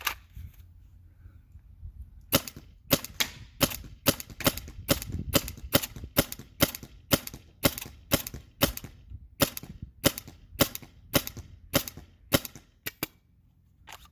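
First Strike paintball marker running on an EMF100 compressed-air tank, firing about twenty sharp, loud shots in a steady rapid rhythm.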